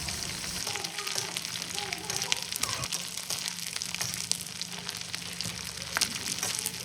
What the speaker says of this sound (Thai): ทอดปลากระตักให้สุกเหลืองกรอบเลยนะคะ